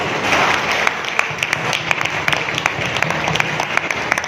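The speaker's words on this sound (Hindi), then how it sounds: "तालियां बजाएं।" Audience members at an RCM pin celebration clap together in a sustained round of applause, a dense wash of hand claps with distinct louder slaps scattered through it, fairly close and loud.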